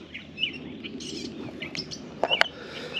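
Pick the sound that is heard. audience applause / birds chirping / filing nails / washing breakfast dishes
birds chirping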